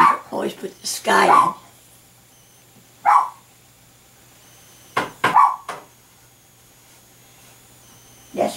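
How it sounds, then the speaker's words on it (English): A small poodle barks in sharp, high bursts, a few at a time with quiet gaps between, close by; someone speaks briefly. "That's my dog barking."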